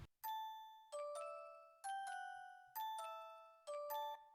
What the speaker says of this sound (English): This is what it sounds like without the effects.